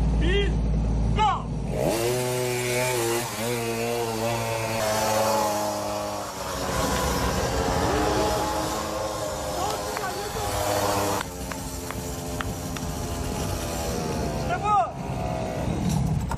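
Small race vehicles, a four-year-old boy's kid-sized car against his champion father's, buzz and rev around a track, engine whine rising and falling in long sweeps under a news narrator's voice and some background chatter.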